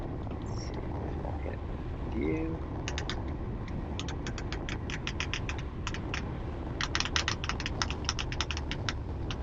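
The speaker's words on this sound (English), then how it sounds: "That crinkling noise in my studio" Crinkling rustle from a boa on a cyclist's shoes in an indoor race-commentary studio, heard as a steady crackly hiss with bursts of sharp rapid ticks through the second half.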